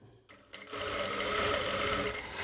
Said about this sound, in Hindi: इस पर सिलाई मशीन चला लेना है